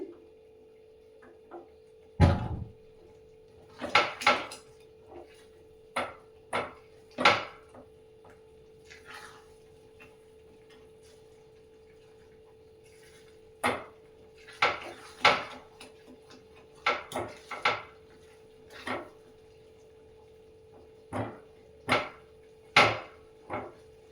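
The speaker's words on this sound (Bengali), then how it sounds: "এখন এটাকে নাড়তে হবে" A spatula stirring a thick tamarind mixture in a pan until it dries, heard as sparse, sharp taps and scrapes against the pan, spaced irregularly over a quiet background hum.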